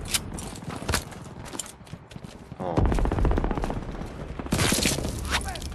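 Gunfire on the Normandy D-Day beach in Call of Duty WW2: scattered sharp shots at first, then dense overlapping automatic fire and loud bursts dominating the second half.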